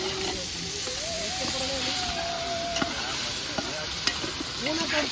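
Tomatoes fry in hot oil with a loud, continuous sizzle, and stirring scrapes and clinks cut through the hiss.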